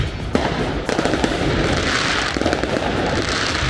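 Fireworks explode in a dense, continuous barrage of loud crackles and pops, with sharper bursts standing out against the steady roar.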